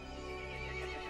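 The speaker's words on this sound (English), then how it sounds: "The horse grew angry and summoned the other monsters." A horse in the horror video game Resident Evil Village lets out a short, loud whinny over a droning ambient backdrop, with no talk.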